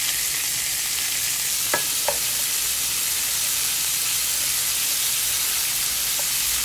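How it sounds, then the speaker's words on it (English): Sausage, peppers and onions stir-fry in a pan with a loud, unbroken sizzling hiss, and two or three faint utensil clicks stand out briefly near the start. "first you're gonna stir fry your sausage. Then you're gonna add in your peppers as well as your onions"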